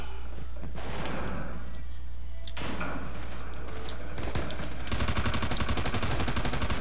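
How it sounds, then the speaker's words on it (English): A flash grenade goes off in a PS4 shooter game, a sudden loud blast followed by a sustained ringing, buzzing roar, with gunfire-like thumps and clatter earlier in the match. "Flash grenade."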